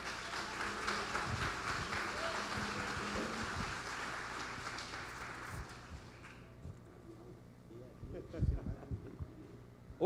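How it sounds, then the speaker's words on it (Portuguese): A church congregation at an Assembleia de Deus service applauds, a broad wash of clapping from many hands that fades out after about six seconds, followed by quieter room sounds and a few scattered close noises. "Queria que você aplaudisse Jesus"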